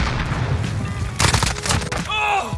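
Video game MP5 fitted with a subsonic suppressor fires rapid bursts of muffled shots, dense and loud at close range, with brief pauses between volleys and a voice speaking near the end.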